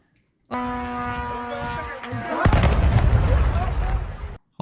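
An explosion during an attack in Iraqi Kurdistan: a tonal, horn-like whine gives way to a loud, sustained roaring blast with crackling rumble, close and dominant before cutting out abruptly.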